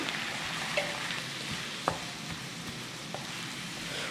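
Filling ingredients for Turkish pies mixed with olive oil in a bowl, a steady close stirring and squelching texture with a few light taps of the utensil, no talking.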